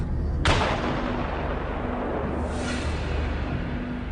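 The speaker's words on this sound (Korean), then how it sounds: "지뢰가 드러나면 TNT를 설치한 다음 이거 연기 폭발시킵니다." TNT charge detonating an exposed green plastic landmine: one sharp, loud blast at the start, followed by a long, dense rumbling roar and debris wash that sustains to the end, with no talk.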